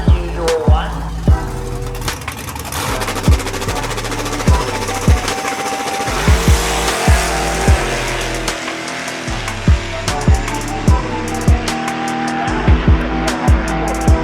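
A Studebaker car drives at a race track with a loud, continuous engine drone. Sharp ticks and thumps repeat at a fairly regular rhythm throughout.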